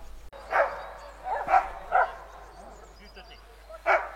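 A few short dog barks and yips ring out at moderate distance, spaced irregularly over quiet outdoor background.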